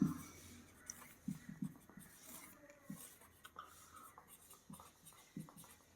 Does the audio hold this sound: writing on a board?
yes